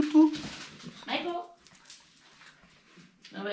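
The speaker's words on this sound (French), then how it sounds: "Oh non, mais c'est petit toutou." A small dog gives short, high whimpers and yips close by, interleaved with people talking over it.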